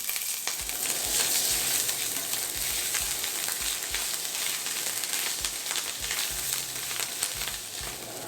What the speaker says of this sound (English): I'll add the ginger garlic paste. Hopefully the skillet's not too hot for it